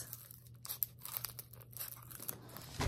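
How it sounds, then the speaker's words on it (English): Tiny scissor blades crunch and snip into a cardboard box in short, uneven bursts, close by and fairly quiet, with crinkling between cuts. "I'm just going to cut right into the box."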